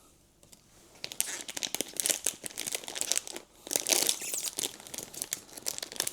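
A Pop Mart Frieren figure blind box is opened by hand, giving a steady stretch of crinkling and tearing of packaging, close and fairly quiet, with no talk.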